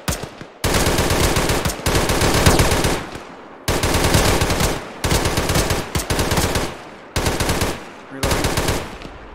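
Sustained bursts of automatic machine gun fire in an Arma military shooter game, loud and close, coming in long rattling strings separated by short gaps.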